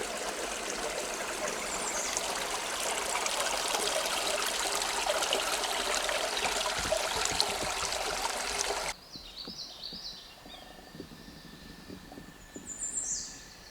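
The Manistee River flowing beside a backpacking trail, a steady rushing trickle of water close by for most of the stretch, then cutting to a quieter scene with distant birdsong over faint water.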